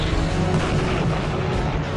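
Rockets fired by Typhoon fighter-bombers explode against tanks in a wartime battle, giving a loud, dense, continuous rumble of blasts and booms throughout.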